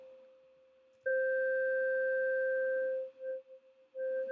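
Pure electronic sine oscillator tones from a synthesizer's spread function hum steadily, then swell louder and waver in and out as phasing makes the sound pulse and dip.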